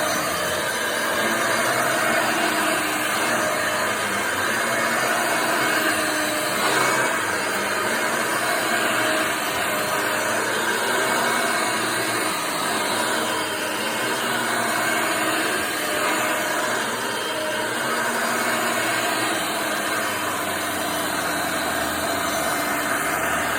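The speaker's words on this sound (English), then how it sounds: "it sounds just like an Elite" A 1988 Hoover Elite 300 upright vacuum cleaner fitted with a new belt runs continuously at close range, its motor a steady, unchanging whine and rush of air throughout.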